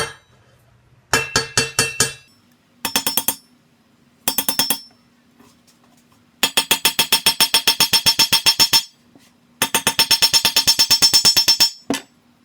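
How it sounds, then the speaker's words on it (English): Rapid bursts of hammer blows on a steel rebar knife blade, each run a quick ringing series of strikes, separated by short pauses, loud and close. "I think I might need to just hammer that the rest of the way"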